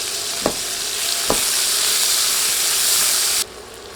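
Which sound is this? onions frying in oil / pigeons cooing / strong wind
onions frying in oil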